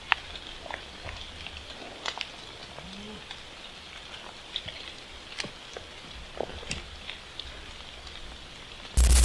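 Rain falling at night outdoors, a steady soft patter of drops with occasional sharper hits, fairly faint and continuous and free of speech.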